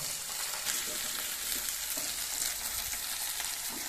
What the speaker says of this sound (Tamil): வெங்காயம் காயெல்லாம் நல்லா வதங்கிடுது